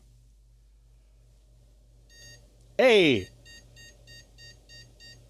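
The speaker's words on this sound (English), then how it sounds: "Okay, it should beep here." A 1990 motherboard's small onboard speaker beeping in a faint, evenly spaced series of short tones, briefly interrupted by a loud excited voice shouting.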